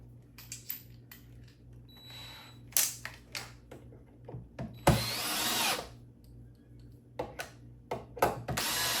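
Short bursts of a drill/driver in hammer mode, one longer rattling run in the middle, separated by clicks and handling noises in a quiet room.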